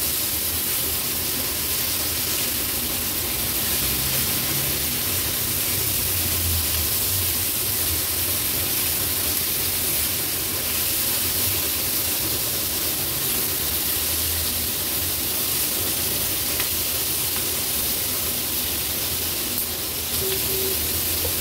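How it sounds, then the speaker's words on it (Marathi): Mixed vegetables sauté in hot oil in a pan, added after a tempering with asafoetida, giving a continuous loud sizzling hiss that holds steady from start to finish. "आता आपण तेलावर हे थोडे परतून घेऊया।"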